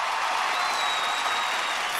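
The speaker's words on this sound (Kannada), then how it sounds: "ಬರ್ಲಿ ನಮ್ಮ ಹುಡುಗರಿಗೆ ಒಂದು ಜೋರಾದ ಚಪ್ಪಾಳೆ" A studio audience at a Kannada comedy stage show applauds, a dense, even wash of clapping hands held at a steady level for a couple of seconds.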